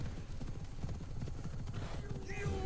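Horse hooves in a video game trailer, steady rapid clip-clop of a galloping horse, loud and close, with a short voice near the end.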